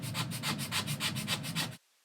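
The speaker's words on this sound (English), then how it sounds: "So I'm just going to start scraping" Old paint being scraped off a surface, green with brown beneath, heard as a steady rhythmic rasping of about seven strokes close by, which then stops abruptly.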